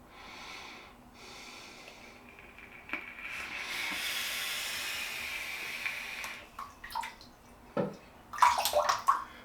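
Running water splashes into a sink as a safety razor is rinsed, a soft steady rush that swells midway, then gives way to a few sharp knocks and clatters near the end.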